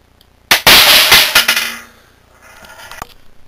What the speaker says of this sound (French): J'ai aussi rajouté une photorésistance sur mon canon, donc on peut le déclencher à distance seulement avec un pointeur laser